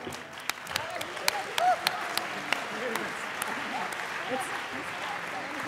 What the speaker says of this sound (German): Ein Applaus für unseren frisch gebackenen Wahlkampfkoordinator.